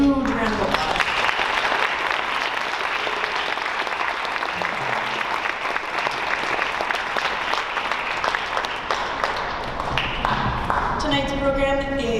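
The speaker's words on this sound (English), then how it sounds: "Can we give them a huge round of applause?" Sustained audience applause at a school district arts showcase, a thick wash of clapping filling the whole stretch at steady loudness, with some voices mixed in near the end.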